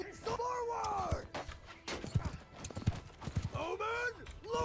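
Horse hooves clip-clop across a battlefield in Mount & Blade II: Bannerlord, half buried under shouted commands, crowd noise and tonal in-game sounds.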